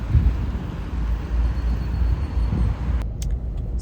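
Car driving on a road, a steady low rumble of engine and tire noise heard from inside the cabin, fairly loud and continuous, with no talking.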